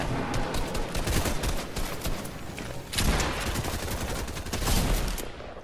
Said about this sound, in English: I finally got one. Normal SMG.